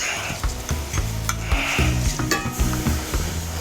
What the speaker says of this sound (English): Fold some of that red rice in there.